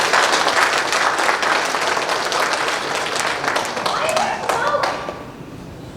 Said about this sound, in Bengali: আসুন আমরা একটি করতালি দেই।